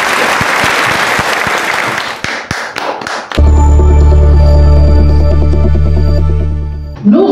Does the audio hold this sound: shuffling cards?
no